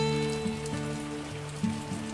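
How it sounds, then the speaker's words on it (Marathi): Light drizzle falls on a Konkan village home, a soft, steady patter of fine rain heard close by with a faint tonal hum running underneath. "बघा पाऊस चालू आहे मस्त की बारीक बारीक बारीक"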